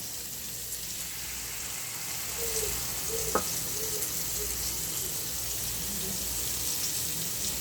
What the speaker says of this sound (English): now we're going to add the vinegar and wine